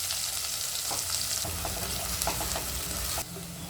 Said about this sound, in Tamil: இப்போ வெங்காயம் ஒன்று நல்லா பொடியாக நறுக்கிறத ஆட் பண்ணிக்கிறேன்